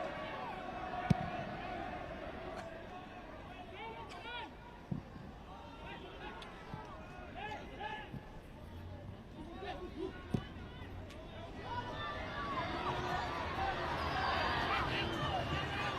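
Stadium crowd at a 2009 Real Madrid football match, a steady distant murmur with scattered cheers that swell toward the end, beneath a commentator talking.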